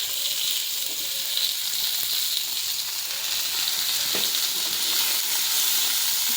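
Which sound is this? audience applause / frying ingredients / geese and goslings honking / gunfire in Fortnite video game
frying ingredients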